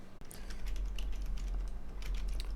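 Keys clatter on a computer keyboard in a run of quick, irregular taps over a low steady hum, close and moderately loud, with no voices.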